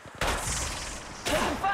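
Gunfire from the mobile battle royale game Apex Legends Mobile, a loud burst of close shots with a brief pause before a second volley near the end.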